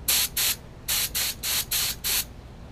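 A spray can hisses in short bursts while paint goes onto a small washer from a brake booster linkage off a 1959 Chevy Bendix power brake booster. Seven close, sharp hissing sprays come in two groups with brief gaps between them.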